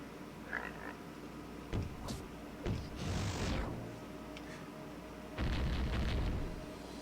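Bomb dropped by a slain scorpion enemy in an indie RPG Maker volcano game bursts with a low, rumbling boom over a steady background hum, swelling for a second or so, then a second heavier rumble follows.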